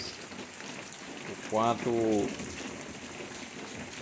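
Morning rain falls over a backyard planting area in the Brazilian sertão, a soft, constant patter beneath a short burst of someone speaking.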